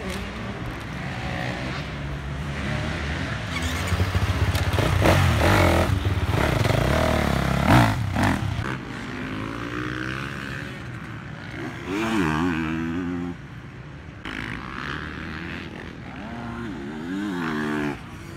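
A factory-prepped A100 motorcycle pulls away: a loud, close engine rumbles and revs, then fades as it rides off, with a few later rising and falling revs further away and no talking.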